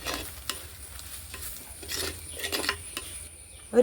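Kashmiri chilli powder and coriander powder being stirred in a pan, giving soft repeated scraping strokes over a faint sizzle, close and fairly quiet with no talk.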